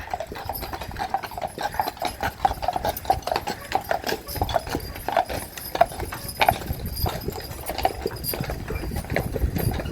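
Steady clip-clop of horse hooves on pavement on Mackinac Island, a brisk repeating trot, with faint street ambience in the background.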